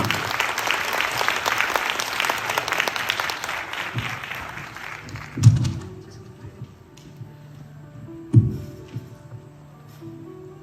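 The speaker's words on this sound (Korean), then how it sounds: "박수로 함께 해주시기" An audience applauds an award recipient at a World Day for Foreigners event, dense clapping for about five seconds that fades out, then a few isolated thumps and light handling noises in a quieter room.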